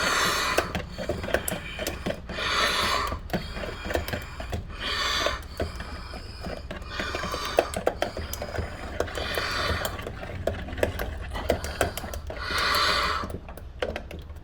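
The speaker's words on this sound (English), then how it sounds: "we're going to get out our whisk here. And we're just going to go ahead and whisk that up" Eggs are whisked by hand in a bowl, giving rapid rhythmic bursts of clicking and scraping that repeat steadily and sit close and fairly quiet.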